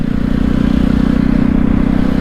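A Jawa 42 300cc motorcycle cruises along the Mumbai–Pune expressway, its engine giving a steady, loud, close drone with rushing wind and no pauses throughout.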